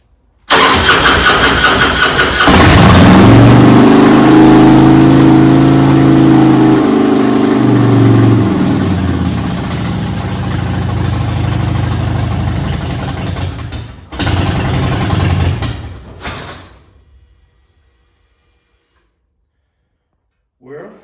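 A Harley-Davidson Softail motorcycle engine with an intake leak cold-starts after reassembly, then revs and idles loudly up close for about fifteen seconds before cutting out, followed by near silence.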